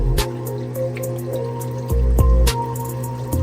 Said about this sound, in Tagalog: Ubusin natin to, at lalagyan pa rin natin siya ng tubig.